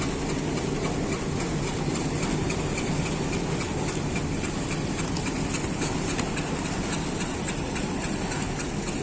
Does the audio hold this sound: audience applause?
no